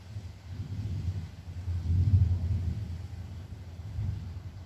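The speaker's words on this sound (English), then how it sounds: "that is rolling thunder" Rolling thunder before a storm, a low continuous rumble that swells and subsides over several seconds, distant and heard alone outdoors with some wind.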